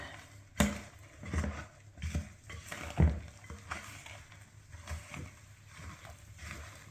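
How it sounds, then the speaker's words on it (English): Spoon stirring a very thick muffin batter in a bowl, irregular soft scraping and thudding strokes with a couple of sharper knocks against the bowl, close and fairly quiet. "And then we're just gonna stir them together."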